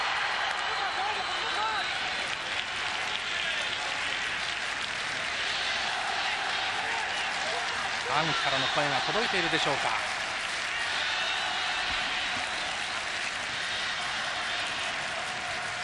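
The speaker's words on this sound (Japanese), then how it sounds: "メインスタンドからの拍手が大きくなってきました" Applause rises from the main stand of a packed Shah Alam football stadium during a Japan versus Iraq Olympic qualifier, a steady broad roar of clapping and crowd noise throughout, with a commentator speaking over it.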